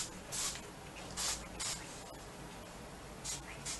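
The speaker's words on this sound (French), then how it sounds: "vous pouvez rajouter un petit peu de spray" Hairspray hisses from an aerosol can onto a donut bun in short bursts, five or six quick sprays spaced irregularly, close and fairly soft over light room noise.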